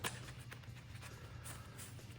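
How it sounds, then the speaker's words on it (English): A deck of playing cards is shuffled quickly for a tabletop card game, giving a faint, brisk run of soft riffling flicks and rustles with no talk. "So I'll do a quick shuffle."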